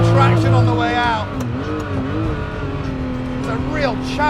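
A Ferrari F40 or F50 sports car is driven hard through a turn, its loud, close engine note dipping and then climbing again as it pulls out of the corner.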